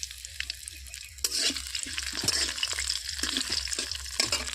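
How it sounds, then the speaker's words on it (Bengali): Mixed vegetables with slit green chillies hit hot oil already tempered with panch phoron, a dried red chilli and bay leaf, bursting into a loud continuous sizzle with repeated stirring scrapes in the pan after a quieter start. "কাঁচা লঙ্কা, শুকনো লঙ্কা, তেজপাতা দিয়ে আমি এটাকে ভাজা ভাজা করে নিচ্ছি"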